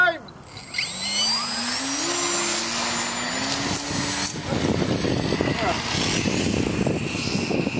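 Radio-controlled model airplanes race overhead at a flying field, their small engines whining and buzzing with rising and falling pitch as they pass, loud and steady, with people talking nearby.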